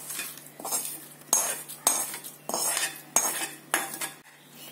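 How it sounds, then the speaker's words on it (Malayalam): A spoon scrapes and clinks against a vessel while unniyappam batter, with ghee-roasted coconut, sesame and cumin, is stirred and mixed, in irregular strokes with sharp metallic knocks, close and clear. "ഇത് നന്നായിട്ട് ഇളക്കി യോജിപ്പിക്കാം"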